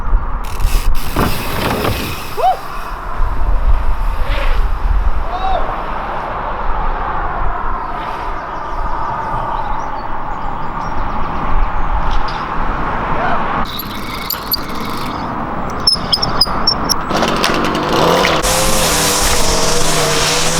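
An enduro motorbike riding a slopestyle line, its engine droning and revving steadily throughout, loud and fairly close, swelling near the end.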